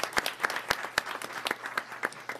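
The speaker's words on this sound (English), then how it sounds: "We'll give her a round of applause as she comes forward" A modest audience at a school board meeting applauds a school principal coming forward, scattered individual claps sounding fairly close and sparse, steady for a couple of seconds.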